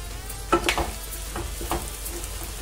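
Mutton frying in a pan with chili powder, soft sizzling under a few scraping stirs of a spoon, close and fairly quiet.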